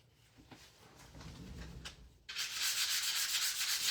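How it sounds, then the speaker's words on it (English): Sandpaper rubbing across a wooden cutting board being prepared for a decorative autumn design, soft low scrubbing strokes at first, then a brighter, steady, close rasping that grows louder toward the end. "I'm going to sand over the middle"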